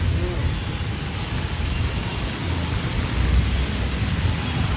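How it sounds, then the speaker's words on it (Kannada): Steady, dense rain roars continuously over Bangalore, a heavy downpour with a low rumbling undertone and no breaks. "ಮಳೆ ನೋಡ್ರಿ ನಮ್ಮ ಬೆಂಗಳೂರು ಎಷ್ಟು ಬರ್ತಾ ಇದೆ ಈಗ"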